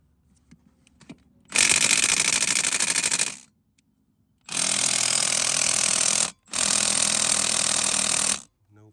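A cordless power tool whirs and hammers on a bolt on an Audi 2.0T engine, with three loud bursts of roughly two seconds each separated by short pauses.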